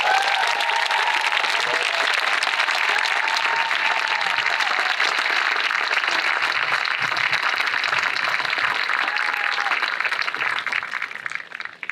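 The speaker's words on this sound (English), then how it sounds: "could you give them a round of applause?" Sustained applause from a crowd at a high school graduation ceremony, dense and steady clapping filling the hall for about eleven seconds before tapering off at the end.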